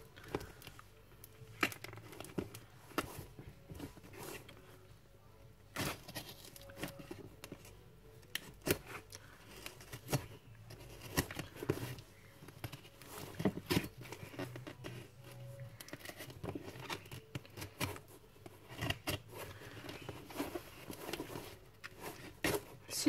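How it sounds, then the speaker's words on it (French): A well-padded parcel packed in two layers of cardboard being opened with scissors: scattered snips, cardboard scrapes and crinkly rustling in irregular bursts, close and moderately loud. "si j'arrive à ouvrir le colis."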